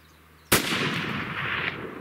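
A single rifle shot cracks out sharply during a spring bear hunt in Arizona, loud and close, followed by a long rolling echo that fades slowly across open terrain.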